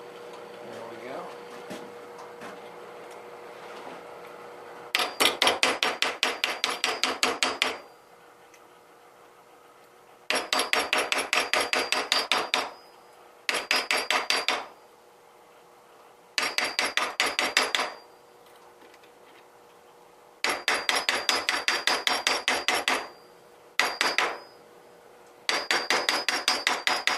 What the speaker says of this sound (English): let's just pound these flat